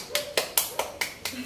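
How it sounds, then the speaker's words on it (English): Students in a classroom give a short round of claps for a group after its science presentation, six or seven distinct slaps spaced about a quarter second apart, fairly close and moderately loud. "Let us give a clap to group one."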